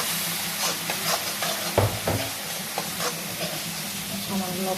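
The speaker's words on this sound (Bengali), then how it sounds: "দিয়ে এখন কষিয়ে নেব" Turmeric powder with cumin and coriander being sautéed in oil for koi fish curry, a steady close sizzle with rhythmic scraping and stirring strokes against the pan and a louder clunk near two seconds.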